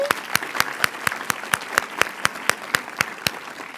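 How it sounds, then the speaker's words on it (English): Audience at a nursing gala clapping for Dr. Ruby Wilson; sharp, regular claps ring out alone and fairly close, a small round of applause lasting a few seconds. "But a little round of applause for Ruby."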